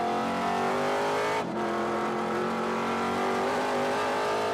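Vintage Trans-Am race car, a Ford, Chevy or Dodge, accelerating hard at Mid-Ohio: loud, close engine roar with rising revs, a brief dip as it shifts, then climbing again, no voices.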